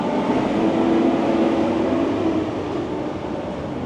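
A train rolls along the railway through Hood River, Oregon, a steady, loud rumble with a sustained hum that holds through the moment and eases slightly toward the end.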